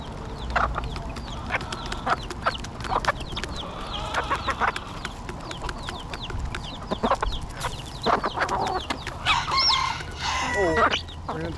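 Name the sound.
chickens and rooster clucking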